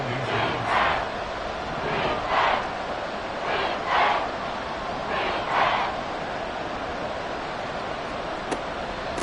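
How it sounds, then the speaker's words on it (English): Stadium crowd noise from a Madden football video game, a steady wash of cheering with several swelling roars rising and falling in waves, moderately loud and alone without commentary. "this crowd trying to force a false start here"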